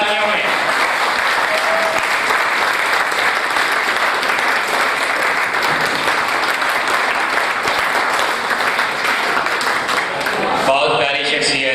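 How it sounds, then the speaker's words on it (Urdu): Sustained, enthusiastic applause from an audience at a poetry recital for Shah Dil Shams, thick and even throughout, with a few scattered voices rising from the crowd near the end. "جناب شاہ دل شمس، بھرپور تالیوں میں"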